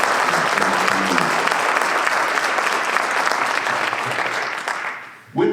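An audience at a leadership academy reception claps loudly and steadily for several seconds. The dense applause fades out near the end before a brief burst returns.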